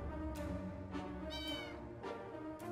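A cat meows several times in the 60 Seconds Reatomized video game, short quiet calls over a low hum of game background.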